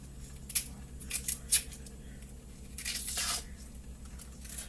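Produce being hulled by hand at home while cooking spaghetti and meatballs, with a few short tearing, snipping bursts and one longer rustling stretch, close and fairly quiet.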